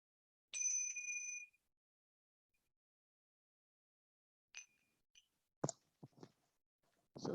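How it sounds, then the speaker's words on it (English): Meditation bell struck to begin a mindful walking session, a single clear ringing tone lasting about a second in near silence, followed later by a few soft clicks and knocks. "when you hear the sound of the bell, I'm going to formally begin"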